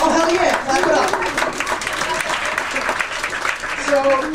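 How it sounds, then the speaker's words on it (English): Comedy show audience claps loudly in a dense burst while people talk over the clapping, the applause holding fairly steady before rising again near the end. "Oh, hell yeah, clap it up."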